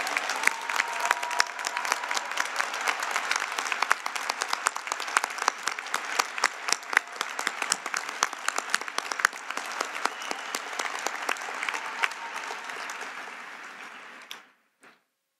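Audience applause at a college commencement ceremony for the class of 2021, a steady, dense wash of clapping sustained for about fourteen seconds before stopping abruptly, with no talking over it.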